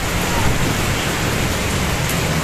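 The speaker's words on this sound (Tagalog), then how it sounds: "Sobrang hangin po mga kalingap." Strong wind roars steadily in a dense broadband rush, loud and unbroken from start to finish, with no pauses or gusting lulls.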